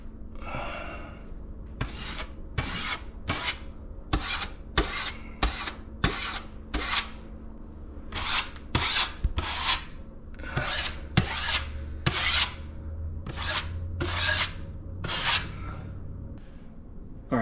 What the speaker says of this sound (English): All right, now we're skim coating.